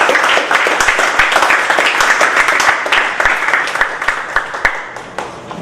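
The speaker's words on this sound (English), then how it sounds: "a big round of applause please for Dr." An audience applauds Dr. Ingrid Salle Santa Maria at a DLSU Manila memorabilia turnover ceremony, with crisp individual claps standing out across several seconds before the applause thins and fades.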